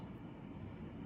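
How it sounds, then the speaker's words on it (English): A train passing outside makes a steady, faint low rumble that runs unbroken throughout, heard from indoors with no talking. "Yes, that is a train, you can hear."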